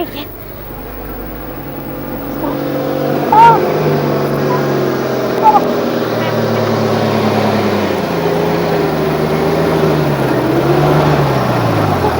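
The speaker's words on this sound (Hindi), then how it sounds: "हॉर्न की आवाज आ रही है, लगता है ट्रक आ रहा है" An approaching truck rumbles with a droning engine whose pitch climbs and shifts as it nears, over a steady loud background, while people talk over it.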